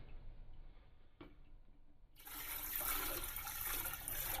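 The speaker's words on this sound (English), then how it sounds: "Water from another tray." Water poured out of a plant nursery tray: quiet trickling and a small knock at first, then a sudden, steady, fairly loud gush of splashing water that runs to the end.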